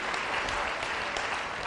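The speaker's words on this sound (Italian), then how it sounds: "E Diletta si gode di nuovo il vostro applauso." Sustained studio audience applause on a 2010 Italian TV variety show, a dense, even wash of many hands clapping at steady loudness with no break.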